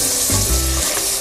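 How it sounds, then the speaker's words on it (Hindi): Sliced okra sizzles and crackles loudly in a pan of spice masala cooked with yogurt and garlic-ginger paste, a close, dense frying hiss with a brief stirring shuffle, no voices. "इसको थोड़ी देर हम भूनेंगे भिंडियों को, उसके बाद इसमें पानी डाल के इसको दम पे रख देंगे।"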